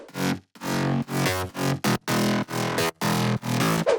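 Future house mid bass synth processed with distortion and compression: a dense, gritty, bright tone in a choppy rhythmic pattern of short and sustained notes, loud and alone.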